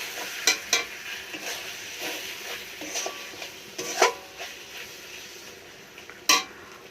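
A spoon stirs chopped green chilies through frying spices and oil for a chicken curry, the steady sizzle broken by repeated scraping clinks against the pan, close and moderately quiet.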